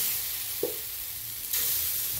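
Green mung bean batter meets a hot griddle with a steady, gentle sizzle, a brief soft clatter partway through, and the hiss brightening noticeably near the end; no voices.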